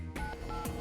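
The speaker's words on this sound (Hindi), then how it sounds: "यही नंबर मिलाया था ना तूने?" Telephone number dialed on a handset during a police crime drama scene, a quick run of short keypad tones over a steady background hum, close and fairly loud, with no talking.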